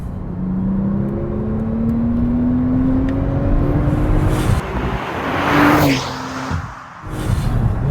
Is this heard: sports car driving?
yes